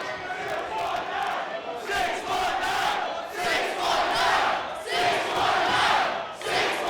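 A crowd at an independent wrestling anniversary show cheers and chants in swelling, rhythmic waves of many voices, loud and continuous throughout with no clear individual speech.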